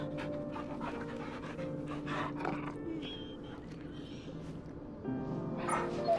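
A dog in Final Fantasy XVI pants steadily and rapidly close up, with soft whimpers and faint game background sounds; a quick louder rustle toward the end.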